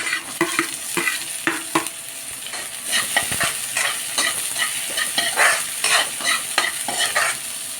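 Onions sautéing with garlic and ginger in oil, a close sizzle under frequent rhythmic scraping and clinking of a spatula against the pan, with no speech.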